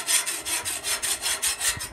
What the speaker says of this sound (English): Just scrape like that